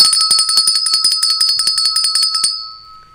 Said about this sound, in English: My bell got stuck.